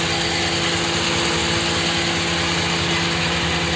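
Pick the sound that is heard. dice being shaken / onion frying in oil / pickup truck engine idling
pickup truck engine idling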